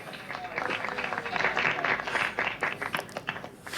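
Applause and cheering from a small group at a 2024 Christmas podcast recording, uneven bursts of clapping, with voices mixed in and talk running underneath.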